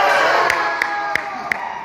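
Crowd cheering for a doubles putting league final, a dense roar of voices with sharp whoops and shouts popping out about every third of a second, close and loud.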